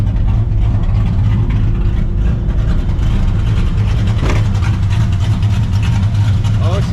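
A 600hp supercharged New Edge Mustang GT droning heavily with a strong low rumble from inside the car, sustained and loud, while a voice talks over it.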